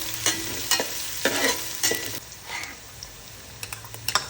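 Thinly sliced onions and green chillies fry in a pan for a fish iguru curry, a soft steady sizzle broken by several sharp scraping stirs at close range, with no talking.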